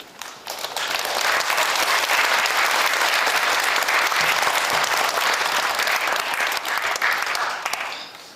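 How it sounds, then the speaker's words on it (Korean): An audience breaks into loud, sustained applause to welcome a lecturer, dense clapping from many hands swelling quickly and holding steady for several seconds before tapering off. "이제 강사님 나오실 때 큰 환영과 격려의 박수를 드리겠습니다."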